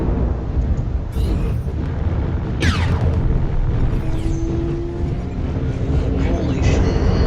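An airstrike explodes in a mech combat video game, a loud, continuous roaring blast that rumbles and crackles throughout, with sharp bursts layered on top.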